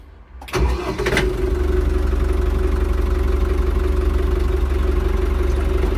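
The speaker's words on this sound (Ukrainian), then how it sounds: "ну ще заведемо, послухаємо мотор, як працює" A Lovol 504 Pro tractor engine cranks briefly, catches with a loud burst, then settles into a steady, rumbling idle close by that continues alone to the end.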